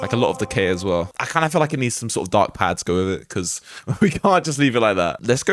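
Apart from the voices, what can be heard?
None of the usual background noises is heard.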